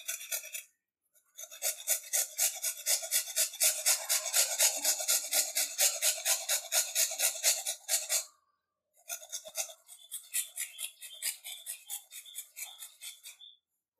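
Cauliflower is rubbed against a kitchen grater for vadai in steady, rhythmic rasping strokes. A long run of scrapes is followed by a short pause and then another series.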